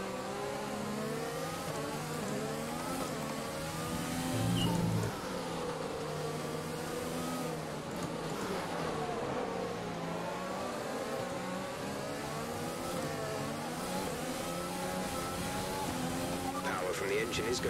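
A tired-sounding race car engine in an F1 video game during the Dutch Grand Prix whines steadily, its pitch climbing and dropping through gear changes for the whole stretch.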